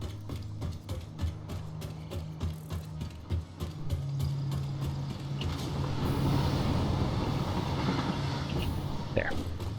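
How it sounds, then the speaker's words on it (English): A train in the game Satisfactory rumbles closer, a low steady drone building into a louder mechanical roar, with clicking and clattering on top. "here comes a train"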